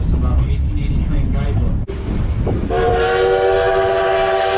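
Historic 1880 Train on the Black Hills railroad in South Dakota between Hill City and Keystone, rumbling steadily before its horn sounds a long, loud, sustained chord that carries to the end, with a voice heard over the rumble.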